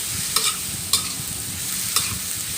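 Cucumber, pork and egg being tossed and stirred in a hot pan, three crisp spatula scrapes over a continuous close sizzle.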